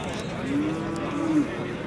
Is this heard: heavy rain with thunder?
no